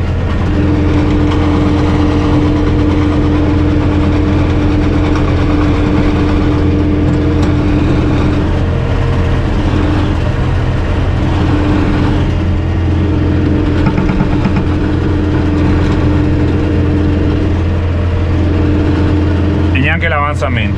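A tractor engine holds a memorized cruise speed while cutting drainage ditches in an asparagus field, giving a loud, steady drone with a constant low hum throughout and a brief rattle near the end.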